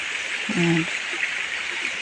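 A small stream beside a banana plantation flows with a steady, soft rushing hiss, broken briefly by a short spoken voice.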